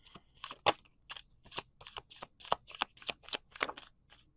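A tarot deck riffled and shuffled repeatedly, crisp papery flutters in quick bursts with short pauses between, close and clear.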